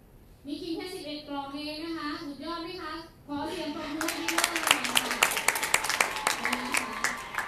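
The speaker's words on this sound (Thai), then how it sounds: "ขอเสียงปรบมือให้ด้วยนะคะ" Someone speaks, then a small group breaks into brisk, close applause with scattered individual claps that keeps going to the end.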